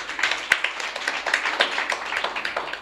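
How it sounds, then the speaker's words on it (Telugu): Audience clapping during a Telugu Christian sermon in church, a dense, steady patter of many hands for about three seconds, with one sharper clap standing out near the start. "చప్పట్లు కొట్టండిరా."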